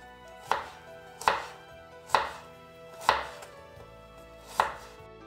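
A knife cuts two small onions into half-rings on a board, giving five sharp, evenly spaced chops about a second apart, close and clear with no talking.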